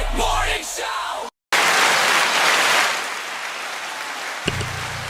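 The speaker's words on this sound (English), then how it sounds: "the hand claps was rather loud" A short burst of loud hand claps and cheering from a small group, cut off by a sudden brief silence, followed by a hissing crowd-like wash that fades toward the end.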